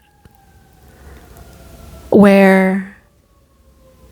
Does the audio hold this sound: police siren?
yes